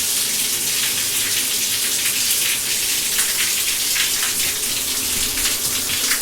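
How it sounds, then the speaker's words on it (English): Strong pour setting of a stateroom shower aboard a Celebrity Edge cruise ship, water gushing steadily and loudly for the whole stretch with no talk over it. "So one more turn and you actually have this very strong pour feature."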